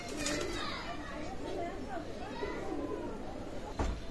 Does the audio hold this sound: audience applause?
no